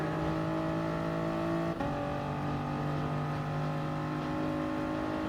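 Race car engines of a Toyota GR Supra Gr.3 in the Gran Turismo video game at Interlagos, a loud steady engine drone with a brief shift in pitch partway through, no voices.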